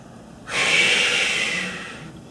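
A single long, deep exhale during an upper-body stretching workout, a steady airy rush lasting over a second and trailing off, close and alone with no talk.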